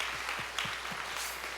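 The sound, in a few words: congregation applause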